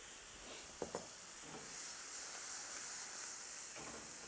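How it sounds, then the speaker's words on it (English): A pan on a stove gives off a soft, steady hiss of steam while chicken Florentine cooks, with a few faint clinks and brief knocks early on and no talking. "we're going to let that steam for just a little bit"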